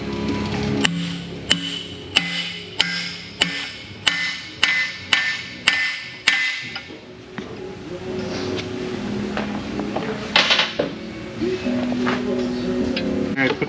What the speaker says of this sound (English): All right, let's watch Brand hammer in some seals.